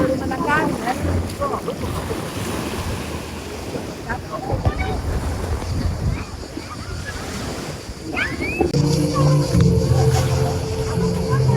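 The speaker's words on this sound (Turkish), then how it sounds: "Burada da dalga olduğu için sanırım." Ocean surf rolls and washes steadily on a shore with wind buffeting the microphone, and a person talks briefly over the waves.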